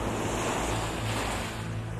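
Black Sea surf rolls in steadily, a continuous loud wash of breaking waves with wind buffeting the microphone throughout, no voices.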